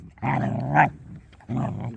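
Young German shepherd puppies growl during rough play, two sustained throaty growls separated by a brief pause, close and clear with no talking.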